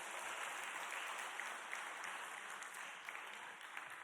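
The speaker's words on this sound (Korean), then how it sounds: "박수 한번 주십시오." An audience at a Wednesday church worship service claps steadily, a dense, fairly distant round of applause filling the whole short stretch.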